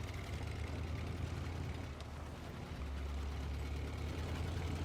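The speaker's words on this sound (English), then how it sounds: "One thing I would say about the Lodestar I'm not sure I'm as big of a fan about is the engine noise." A Lodestar truck engine in SnowRunner drones in a steady low idle hum, continuous and fairly quiet, with a brief slight dip near the middle and no talking.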